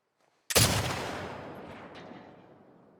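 A single loud gunshot from a video game cracks out near the start, fired at a red sign, and its echo rolls away slowly over the following seconds.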